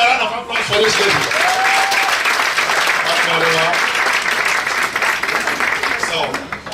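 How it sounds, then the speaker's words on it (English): Audience applause for a woman at an administrative office inauguration in America, steady dense clapping that fills the room for several seconds, with a few voices and a whistle-like tone rising over it. "Please, can you give a round of applause for this lady?"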